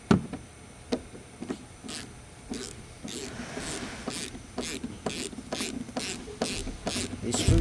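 A hand ratchet loosens the rear bumper nuts on a 2010-2017 Chevy Equinox, giving repeated bursts of rapid clicking strokes at an uneven rhythm, close and fairly loud.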